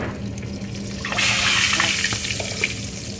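Eggplant and dried milkfish (daing na bangus) fry in a pan, a steady hiss of sizzling oil rising loudly after a quieter start and crackling close up for the rest.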